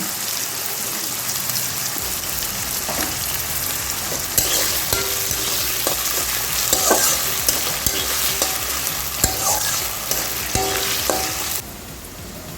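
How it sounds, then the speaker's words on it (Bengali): Potatoes lightly salted and frying in oil for a Bengali muri ghonto, a steady loud sizzle with crackling pops and occasional stirring scrapes, heard close and alone before the noise drops near the end. "আমাদের আলুগুলো ভাজা হয়ে গেছে,"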